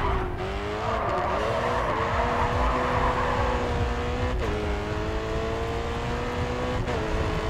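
In the racing game GRID 2, a car drifts through a corner with a loud, sustained tire squeal over a steady engine drone. The engine pitch shifts a couple of times as the slide carries on, with no voices.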